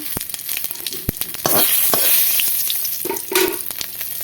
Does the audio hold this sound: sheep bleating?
no